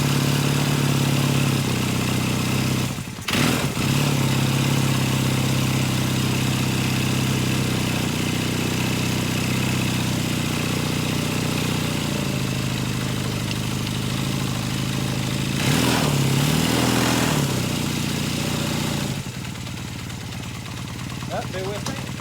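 A 1978 Kawasaki KZ400 motorcycle engine runs at a steady idle close by, a continuous mid-pitched rumble that briefly dips and cuts out a couple of times.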